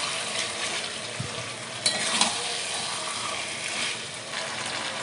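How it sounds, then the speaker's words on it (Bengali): Broiler chicken pieces stir-fried in a pan for a Bengali chicken and potato curry, giving a steady close sizzle with scraping stirs and a couple of brief clinks. "তা মাংসটাকে ভালো করে কষাতে হবে"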